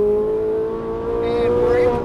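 Ferrari 458 Italia engine pulling hard at full throttle around Auto Club Speedway in Fontana, a steady loud tone rising slightly in pitch over two seconds, with a driving instructor's voice faintly present.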